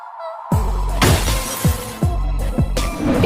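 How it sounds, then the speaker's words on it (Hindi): Two glass doors shatter as they are forced open, a burst of breaking glass followed by several more crashing impacts and falling shards in quick succession, loud and close. "देखिए इसने इतना जोर लगाया कि दोनों शीशे के दरवाजे इसने तोड़ दिए।"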